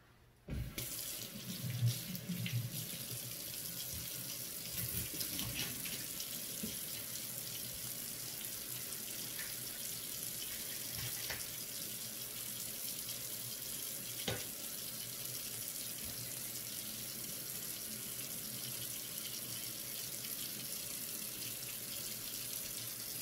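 Water from a kitchen sink tap runs steadily to rinse chopped onion and green pepper, a soft continuous hiss with a few faint splashes and clinks, heard close and fairly quiet.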